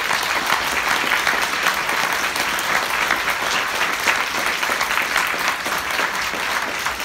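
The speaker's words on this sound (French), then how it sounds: "son épouse, Madame Claude Mangin, que je vous demande d'applaudir." Audience applause at a human rights award ceremony, dense sustained clapping from a large crowd, steady and fairly loud for the whole stretch with no speech over it.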